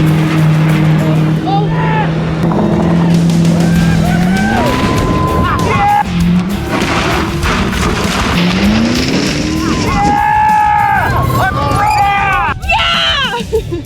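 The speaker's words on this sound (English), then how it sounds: "I hear the engine revving up like crazy." A driverless limousine's engine revs hard and whines through rising and falling pitches over a steady roar as it heads off a jump, with tire squeals and excited voices mixed in.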